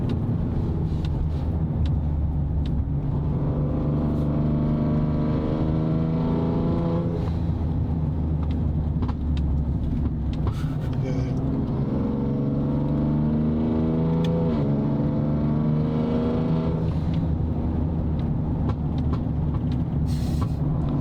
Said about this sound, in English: It's actually just natural pops when I touch the gas.